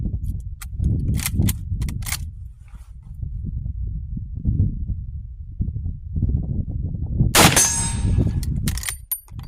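A rifle bullet hits a steel target 50 yards away, with a .38-55 shooting smokeless loads. A few dull outdoor thumps come first, then one sharp, bright metallic clang that rings briefly.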